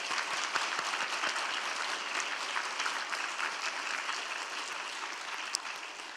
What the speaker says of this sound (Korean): 우리 하나님께 박수 한번 합시다.